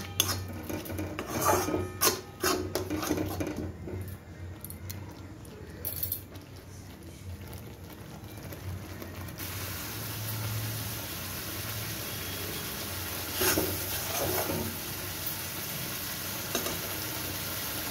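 Cashew and almond paste stirred in a pan for Kashmiri dum aloo, with a steady scraping sizzle and rasping spoon strokes that continue evenly throughout, louder bursts of clatter early on.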